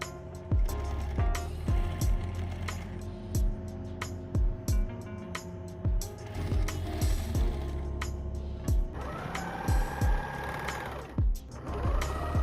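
A sewing machine stitches a zipper onto fabric for a curved coin purse made from printed cloth and recycled jeans, running in a steady whirring stretch broken by short pauses and repeated clicks, close and fairly loud with no talk.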